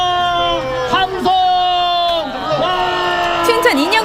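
Children's crowd at a participatory puppet show about Admiral Yi Sun-sin and the turtle ship, shouting and whooping a cheer together in loud bursts of overlapping voices, with sustained pitched calls rising and falling throughout.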